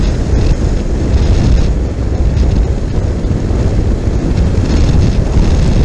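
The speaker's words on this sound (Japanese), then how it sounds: "風が真正面から今風受けてる。" Strong headwind roars into the microphone while riding a 2023 Honda NC750X DCT motorcycle, a steady, loud buffeting rush that fills the whole moment without a break.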